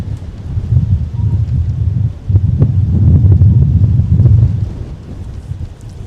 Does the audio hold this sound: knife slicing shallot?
no